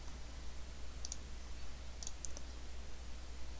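Computer mouse clicks while working in Adobe InDesign: a few quiet, crisp clicks in quick pairs over a steady low hum, with no speech.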